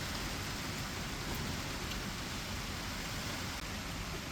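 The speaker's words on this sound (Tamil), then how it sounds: "மழை சரியான மழை பெஞ்சிக்கிட்டு இருக்கு" Heavy rain falling outside a home, a steady, dense wash of noise with no pauses, fairly loud and continuous.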